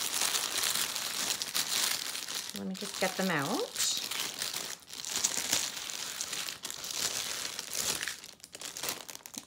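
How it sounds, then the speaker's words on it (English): Close plastic bag crinkling in bursts, rustling under a person's quiet speech, with a short squeaky tonal sound midway. "Put the plastic bag aside."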